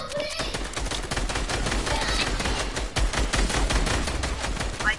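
Rapid video-game gunfire in a team battle match, dense bursts of automatic shots crackling continuously and loudly with a few sharper single reports, close and unbroken over the whole stretch.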